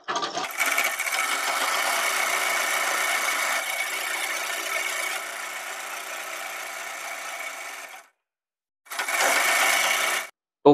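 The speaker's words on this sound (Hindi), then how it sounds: "और इस पर हम सिलाई लगा लेते हैं।" A sewing machine stitches a pant-cut palazzo in a steady, continuous whirring run of about eight seconds, stops briefly, then starts another short burst close by.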